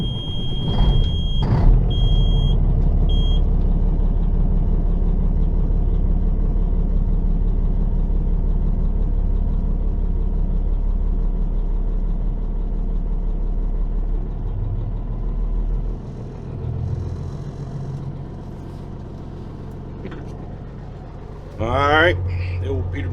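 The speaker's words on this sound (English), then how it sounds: "Alright, the old Peterbilt fired right up." A Peterbilt semi truck's diesel engine cranks, fires and settles into a steady low idle close by, with beeping alerts early on and a brief burst of other noise near the end.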